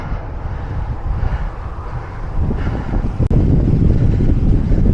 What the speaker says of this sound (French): Il y a un vent de malade.